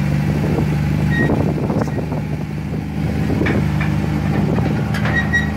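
A 1962 TVR sports car at an import car show idles with a low, steady burble, moderately close, with faint background bustle.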